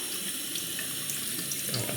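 Tap water runs steadily from a faucet onto an Imperial La Roccia stone during razor honing, a continuous close hiss with no break.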